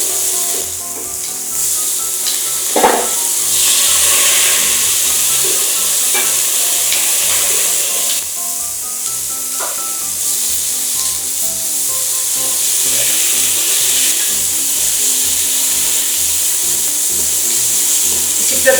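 Sliced beef sizzles loudly in a hot pan, with a constant bright hiss broken by occasional pops and stirring scrapes.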